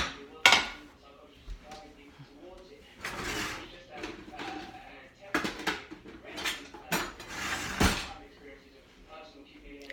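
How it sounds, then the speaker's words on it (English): Utensils clatter and scrape against a crockpot holding BBQ rib sauce, with sharp metallic knocks and dishware clinks in bursts, close by, while a person talks and a TV plays in the background. "So let me get a spatula so we can get it out."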